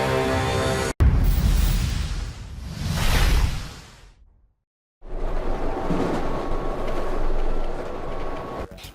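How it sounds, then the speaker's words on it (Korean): A passenger train rattling along rails in a film scene, heavy continuous rumble and clatter with a whooshing swell, a sudden cut to near silence midway, then the loud rolling noise resumes. "열차는 심하게 흔들리고 필라델피아 집으로 가던 중 갑자기 열차가 탈선하는 사고가 일어납니다"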